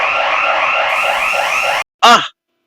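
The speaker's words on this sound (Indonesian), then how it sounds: "tiba-tiba suara alarm berbunyi" A loud, warbling electronic alarm sounds continuously, cuts off briefly, then returns with a short sweeping burst.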